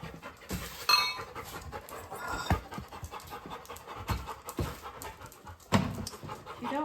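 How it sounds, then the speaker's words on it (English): Dogs pant steadily and rapidly close by, a continuous breathy rhythm with a few louder huffs and bursts. "If you don't like panting dogs"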